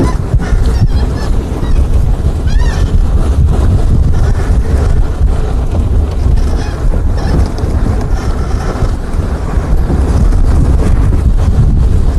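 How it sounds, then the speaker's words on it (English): Egyptian geese honking outdoors as they take off from a river, calls scattered over strong wind rumble and buffeting on the microphone. "Pair of Egyptian geese just flew up from Lamunda and Krip."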